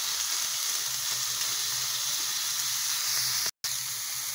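Vegetables such as carrots and beans frying in a pan for noodles, a loud continuous sizzle close by with no voices.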